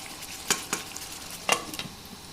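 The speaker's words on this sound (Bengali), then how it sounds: "আমি একটু নেড়ে চেড়ে আবার ঢাকা দিয়ে দেবো 15 মিনিটের জন্য।" Mutton doi roast being stirred in a pan, a few distinct scraping strokes of a spoon over a soft background sizzle, close and fairly quiet, with no talking.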